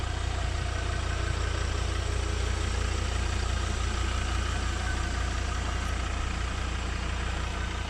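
Ford Ranger pickup with a 3.2 liter five-cylinder diesel idles steadily, a constant low rumble close to the microphone with no talking.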